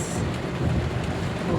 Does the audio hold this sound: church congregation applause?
no